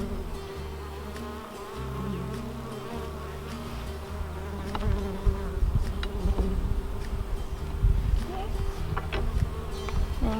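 Bees buzz steadily around hive frames during a nuc installation, a dense continuous hum close by that swells louder in the second half, with occasional soft handling clicks and no talk.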